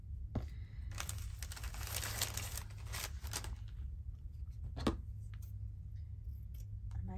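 Scissors snip paper during a craft session, with quiet, crisp cuts over a faint background hiss.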